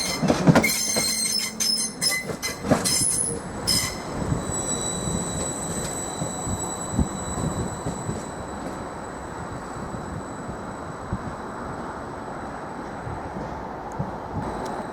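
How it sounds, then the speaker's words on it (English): Class 755 units pulling into a platform at Norwich station, with loud clanks and wheel squeal at first, then a steady rolling rumble and a faint high whine as the train slows. "Seven 55417, now arriving into platform 5."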